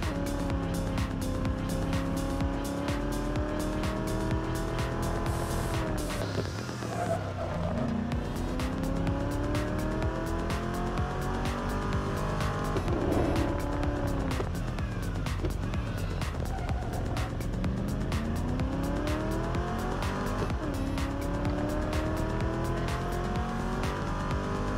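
A racing car in the mobile game Real Racing Next drives continuously, its engine whining up and down through gear changes with occasional tire squeals, loud and steady for the whole stretch with no talk over it.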